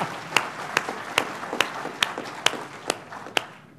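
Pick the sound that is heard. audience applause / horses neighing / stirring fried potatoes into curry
audience applause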